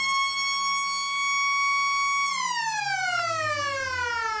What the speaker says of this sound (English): Siren sounds for quarter time here at Eastern Oval